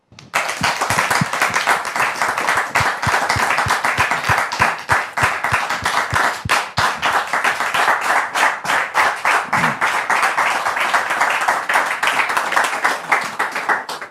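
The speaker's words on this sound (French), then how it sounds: "Merci pour vos applaudissements" A crowd applauds steadily for the whole stretch, dense clapping from many hands with a few sharper individual claps standing out.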